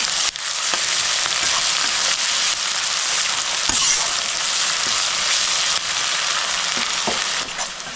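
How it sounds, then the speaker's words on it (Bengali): Onions frying in oil over a high gas flame give a loud, steady, close sizzle with occasional faint clicks of stirring throughout. "গ্যাসটা জোরে করে দিয়ে ভাজছি।"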